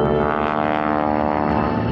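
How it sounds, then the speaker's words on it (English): A Stearman biplane's engine roars loud and steady as it climbs during airshow aerobatics, a continuous droning propeller growl that fills the whole stretch with no break. "Pulling back on the stick, the steerman once again begins to climb."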